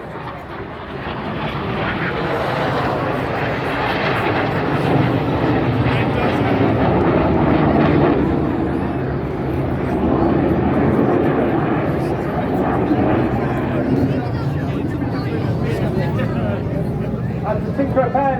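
Red Arrows jets of the Royal Air Force display team roaring low past the crowd at the Blackpool Airshow, a sustained loud engine rush swelling and fading across several seconds with crowd babble underneath.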